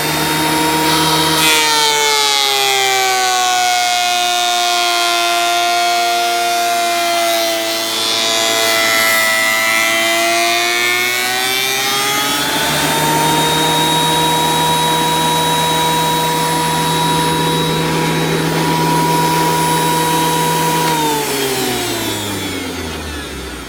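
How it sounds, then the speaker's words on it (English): A Dewalt thickness planer runs steadily as a wooden centerboard for a Penobscot 14 boat is fed through, its loud motor whine dipping in pitch under load as the board is shaved, then recovering and winding down near the end. "Running it through the Dewalt planer."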